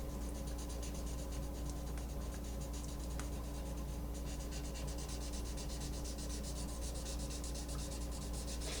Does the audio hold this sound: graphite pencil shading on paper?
yes